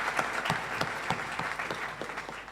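Audience applause at the International School of Tanganyika Class of 2019 graduation ceremony, a steady wash of many hands clapping together, fairly close and full for the whole moment with no voices on top.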